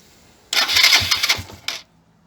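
A Suzuki GN 125 motorcycle cranks and almost fires, a loud burst of about a second of sputtering engine churn that stops, then one short final cough before quiet returns.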